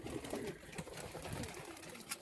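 Bhopal pigeons coo softly in a noisy enclosure, low murmuring calls blending into steady background hiss, faint and distant.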